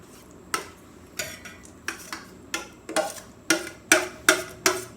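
Ingredients for vegan pumpkin spice butter tipped into a medium pot, giving a run of about ten sharp clinks and knocks that grow louder and quicken toward the end, with no talk.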